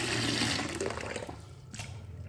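Chalta, or elephant apple, is rinsed in water, making a short, soft splashing and trickling sound that fades toward the end, with no talking.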